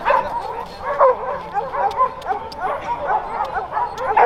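A young dog about a year and a half old yips and barks repeatedly during a training session, sharp excited yelps coming in quick, uneven bursts close by.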